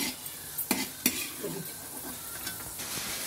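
Ghee frying on a low flame while making sheer khurma, a soft steady sizzle broken by a few sharp clinks and stirring scrapes of a spoon against the pan.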